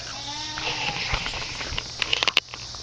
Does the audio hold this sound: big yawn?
no